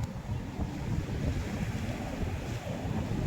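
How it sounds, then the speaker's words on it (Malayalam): Ocean waves break on the shore, a continuous roaring wash of surf with low rumbling swell and wind buffeting the microphone, close and fairly loud, with no voices heard. "നല്ല തിരമാലയായിരുന്നു അല്ലേ രണ്ടെണ്ണം."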